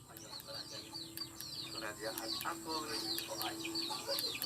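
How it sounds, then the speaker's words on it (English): Chickens being fed give soft, scattered clucks and chirps at close range, repeated irregularly over a steady low background hum. "Feeding chickens."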